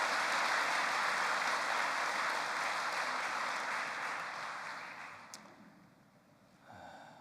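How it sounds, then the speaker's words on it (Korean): A church congregation at a Korean Sunday worship service offers a round of congratulatory applause, a broad wash of clapping that holds steady, then fades away into near quiet. "다시 한번 여러분 큰 축하의 박수를 보내주시면 고맙겠습니다"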